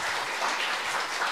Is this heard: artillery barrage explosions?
no